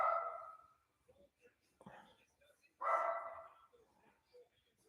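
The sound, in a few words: dog barking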